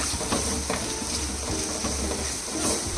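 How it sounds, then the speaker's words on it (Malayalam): Onions stirred in hot oil in a pan for a Kerala coconut-milk fish curry: a steady close sizzle throughout, with soft scraping strokes of the spoon recurring every second or so. "ഉള്ളി നല്ലോണം പാടുന്ന വരെ ഇളക്കുക."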